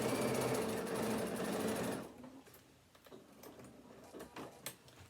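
A sewing machine runs fast and loud for about two seconds while stitching along the edge of a fabric pocket for a phone stand, then stops, leaving quiet handling clicks and small thumps.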